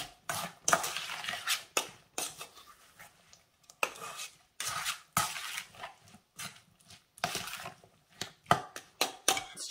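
Salsa of cilantro, onions and sugar being stirred in a bowl, with bursts of scraping and clinking utensil strokes separated by brief pauses, close and fairly loud with no talking.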